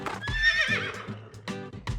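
A horse named Arthur, ridden along a road by a student, lets out a loud close whinny, with hoof clip-clops thudding steadily underneath.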